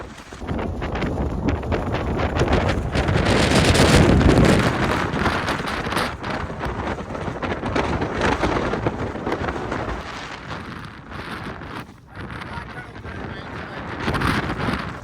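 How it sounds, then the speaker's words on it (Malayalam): Strong monsoon wind batters the microphone during a drive, a loud, continuous roaring rush that swells and eases over the whole stretch without letting up. "ഒടുക്കത്തെ കാറ്റ്"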